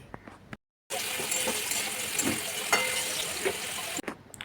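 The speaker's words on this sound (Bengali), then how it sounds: "ওই একই তেলে কুমড়োটা দিয়ে দেব, দিয়ে কুমড়ো ওই রকম হালকা করে ভেজে তুলে রাখবো" Pumpkin pieces frying in hot oil for a Bengali raw-banana-peel dish, a steady broadband sizzle after a brief silent gap, with a few small clinks and pops over the frying.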